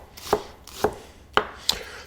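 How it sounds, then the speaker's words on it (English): An Ikeuchi Sakimaru-Gyuto Shirogami 220mm knife chops food on a board in four crisp, evenly paced knocks, close and clear with nothing else audible. "no problems with the chopping motion"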